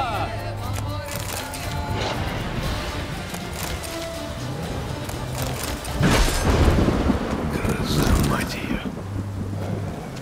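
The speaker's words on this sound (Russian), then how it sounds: "Такая славная гроза у меня давно не получалась." Rain pours steadily in a thunderstorm in the video game The Witcher 3, with a loud swelling rumble of thunder midway and voices talking over the rain in places.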